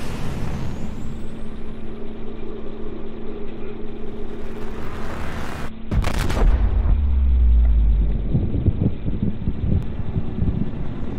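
Lifepod launch in the video game Subnautica: a sudden loud burst and whoosh about halfway through, followed by a deep rolling rumble over a steady mechanical hum.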